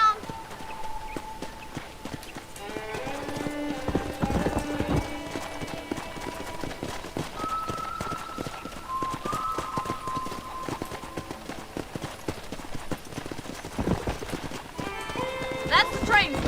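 Horse hooves clip-clopping in the Western video game Red Dead Redemption near a corral, steady walking hoofbeats under game music and character dialogue, with occasional tonal notes.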